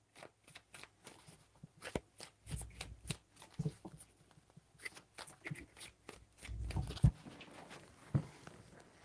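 Tarot cards are shuffled by hand in several soft separate bursts of papery riffling and tapping, close and quiet, with a low room hum.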